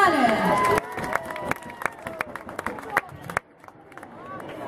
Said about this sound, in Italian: Facciamo un applauso forte